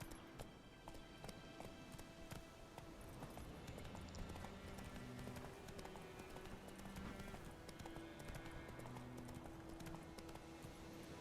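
Roach, a horse in The Witcher 3 video game, gallops with steady, rapid hoof clip-clops over game ambience and a faint musical score, continuous throughout at moderate loudness.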